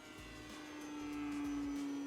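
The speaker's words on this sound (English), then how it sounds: "Do a high speed pass with a slight bit of opposite rudder." HobbyKing H-King KitFox Sport RC plane at full throttle making a high speed pass, its engine a steady rising whine that swells louder as it nears, heard alone.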